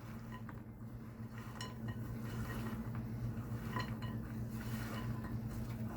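Muffin batter being mixed in a bowl, with a faint clink and scrape of a utensil against the bowl and a soft steady hum underneath.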